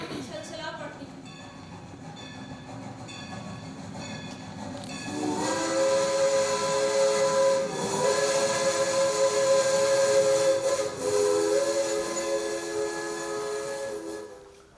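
A steam train whistle sounds at a railway platform, a long sustained tonal blast swelling in after a few seconds of quieter station ambience, holding loud and steady with slight pitch steps before fading near the end.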